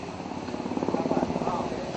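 A helicopter ferrying polling staff and a sector magistrate to election booths thumps overhead with rapid rhythmic rotor chop, loud and close, its engine roar swelling then easing, with people talking faintly beneath.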